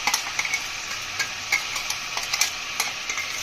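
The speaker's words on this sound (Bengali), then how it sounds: "সুন্দরভাবে চিংড়ি মাছটাকে ভালোভাবে এর সঙ্গে মিশিয়ে নেব" Ground shrimp paste being stirred into boiled potatoes in a pan for a banana-flower and shrimp dish. Close, steady scraping and clacking of a spatula runs throughout over a faint sizzle, with no talk.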